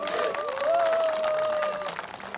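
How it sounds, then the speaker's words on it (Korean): A crowd at a political rally in Daegu claps briefly and continuously, with a sustained voice or tone carrying over the applause. "큰 박수 부탁드리겠습니다"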